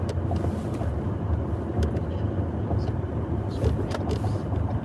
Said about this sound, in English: I'm driving a Lexus